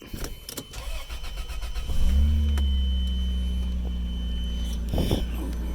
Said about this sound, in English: go ahead and give her a fire up